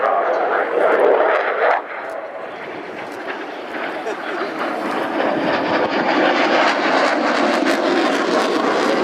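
A Eurofighter jet flies a display at the Royal International Air Tattoo, its engine roar swelling and steadying for several seconds while a commentator talks over the noise.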